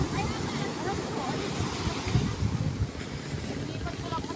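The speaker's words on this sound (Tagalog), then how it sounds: "Yung lalaki po ng alon." Large sea waves roll and wash beside a big boat in the early morning as fishermen head out, a broad rushing surge mixed with gusty wind on the microphone.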